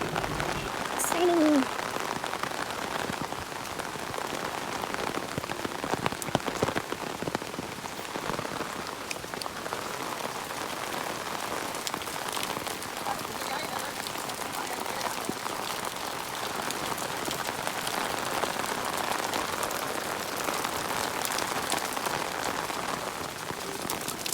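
Steady rain falls throughout on an outdoor village setting in Haldwani, a dense even patter of drops on surfaces with no pauses.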